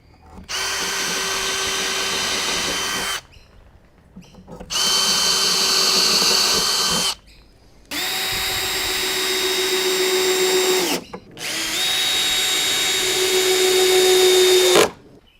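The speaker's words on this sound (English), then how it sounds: "Set it into place and make a quick pre-drill." A power drill whirs in four loud, steady bursts of roughly three seconds each, separated by short pauses, while pre-drilling the Western Red Cedar ridge cap on a Flow Hive Classic. No voices are heard.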